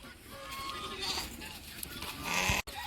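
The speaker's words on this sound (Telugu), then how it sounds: "పొట్టి మేకలు." Small imported goats at a bird and animal park in Bangalore bleat briefly and faintly over background noise, with a few short calls close by in under three seconds.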